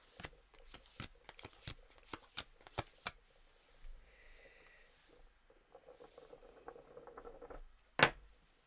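Tarot cards being shuffled up close: a quick run of crisp riffling slaps, then softer sliding and patting of the deck, ending with a sharp brief snap, quiet and without talk.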